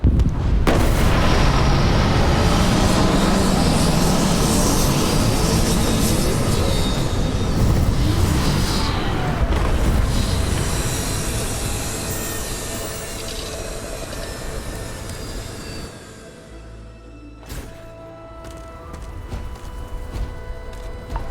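A spaceship in the video game Starfield sets down in a landing sequence, a loud roaring rush of engine thrust and hiss that slowly subsides, ending in a few clanks and a quieter hum.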